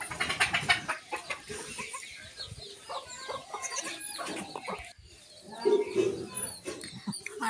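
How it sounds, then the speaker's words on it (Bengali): Chickens and ducks cluck and call in the early morning on a farm where a goat has just given birth, with busy, overlapping calls near and far and a dog-like bark mixed in. "সবগুলো হাঁস মুরগি বের হয়েছে, আর সবাই শুধু চিল্লাচিল্লি করতেছে।"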